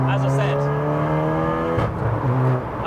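A 500+ bhp Volkswagen Golf R track build drives on the road, its engine droning with a steady harmonic tone that shifts pitch as it changes gear, close and prominent throughout.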